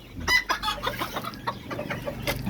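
Chickens of the bulik breed, rooster and hen, cluck and call in a close farmyard, with a busy run of short clucks and a brief crow-like call near the start.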